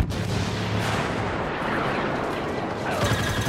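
Airstrike in the Star Wars Battlefront video game: a dense, continuous roar of blasts and rumbling explosions, loud and sustained throughout with no pause.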